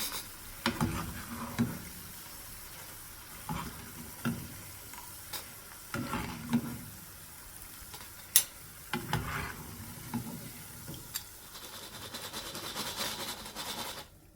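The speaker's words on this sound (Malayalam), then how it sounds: "അതിനുശേഷം നമുക്ക് മീഡിയം ഫ്ലെയിമിൽ വെച്ചിട്ട് ഇത് ഫ്രൈ ചെയ്തെടുക്കാം" Thaen Mittai sweet balls fry in hot oil over a medium flame, with a steady low sizzle broken by repeated scraping and stirring bursts from a spoon or ladle. The sound is close and moderately loud, and no one speaks.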